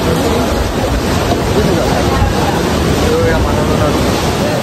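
Sea waves wash steadily onto the Pondicherry shore near a lighthouse, a loud continuous roar of surf mixed with wind buffeting the microphone, with no clear breaks across the stretch.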